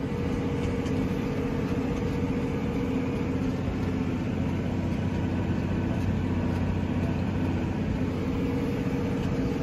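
A Fendt tractor's diesel engine runs at a steady drone throughout, a constant low hum from inside the cab with no speech.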